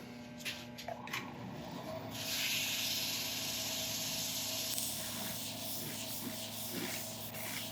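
Cloth rubbing a finish into an elm woodturning, a steady close hissing, scrubbing sound that runs throughout without speech.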